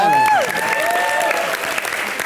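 Studio audience applauding loudly at a TV comedy roast show, steady dense clapping with a sliding musical tone at the start.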